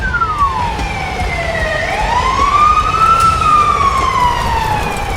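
A fire engine siren wails continuously as the truck arrives at a farm fire, its tone sweeping slowly up and down, loud and steady over low rumbling traffic noise.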